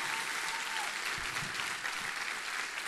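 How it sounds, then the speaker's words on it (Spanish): Congregation applauding in a church service, a steady wash of clapping from many hands that fills the short stretch at an even level, with no voices rising above it. "Dale un aplauso porque Dios es el que te escucha."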